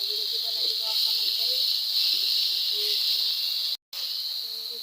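Tomatoes fry in a hot pan for an Assamese gravy dish, giving a steady, close sizzling hiss that holds throughout and breaks off in one brief gap near the end.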